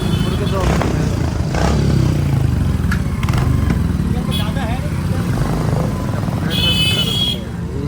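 A motorcycle carrying three riders drones steadily nearby in a Prayagraj lane during the Maha Kumbh Mela, with voices chattering faintly underneath.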